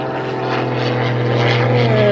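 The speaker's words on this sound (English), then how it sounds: "Oh, we got a plane going overhead." A propeller airplane passes overhead with a steady droning engine hum, loud and continuous and slowly shifting in pitch, while a person talks over it.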